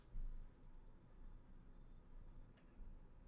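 A computer mouse clicks a few times in a quiet room while someone sets up Azure virtual machines: faint, sharp, isolated clicks with long pauses between them.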